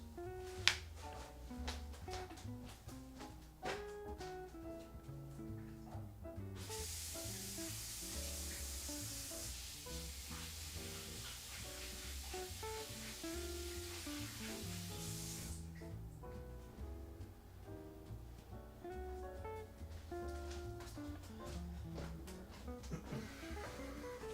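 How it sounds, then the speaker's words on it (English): Hands washed under a running tap, a steady hiss of water lasting several seconds, faint beneath quiet background music. "Let me quickly wash my hands."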